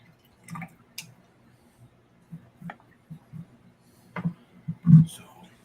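Thinned paint for an airbrush gets stirred, making faint scattered wet clicks and squishy taps at an irregular rhythm, close up against near silence.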